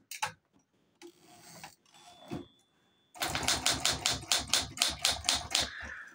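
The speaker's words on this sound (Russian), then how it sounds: "Возврат каретки здесь бесшумный." An Olympia SG1 manual typewriter makes a quiet sliding carriage return with a short ratcheting stretch, then a fast burst of sharp, close key strikes clacking in a steady rhythm.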